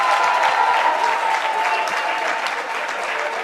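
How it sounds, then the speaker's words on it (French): A hall crowd applauds the young people present at a church gathering, loud sustained clapping close and dense, with a faint tonal hum beneath and slowly easing toward the end. "Applaudissons pour tous les jeunes qui sont dans la salle"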